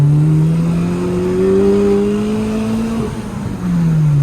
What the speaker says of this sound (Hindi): एक बार जरा मैं आप लोगों को गाड़ी भगा के हल्की सी एग्जॉस्ट की आवाज़ सुना देता हूँ।